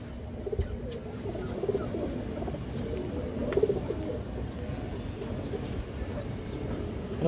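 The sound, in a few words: pigeon cooing, a female pigeon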